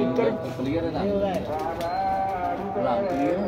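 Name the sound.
pigeon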